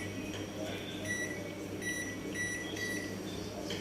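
Timer buttons on a microwave oven chirp in a few short, faint electronic beeps while tea is being heated, set against a steady low hum and room noise.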